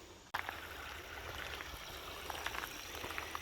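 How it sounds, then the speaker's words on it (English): Flowing creek water in a central Ohio streambed, a steady close babble and trickle that starts abruptly after a brief quiet moment and continues evenly without talk. "Just like the sound of the creek."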